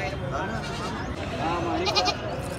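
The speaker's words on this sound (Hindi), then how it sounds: "देखिए हैदराबादी बकरा है भाई" Hyderabadi goat at a busy Sunday livestock market, bleating in short wavering calls amid a loud crowd, with people talking nearby throughout.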